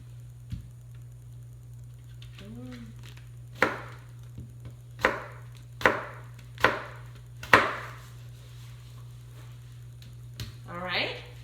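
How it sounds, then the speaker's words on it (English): A knife cuts up an apple in a quiet kitchen, about six or seven crisp separate chops spaced roughly a second apart, close and moderately loud over a low steady hum, with a faint squeaky rustle near the end. "I'm gonna cut up this apple"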